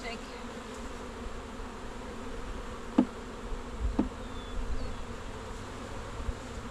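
Honey bees in a full hive box buzz steadily as the box is given a shake, a dense low hum with a couple of brief knocks.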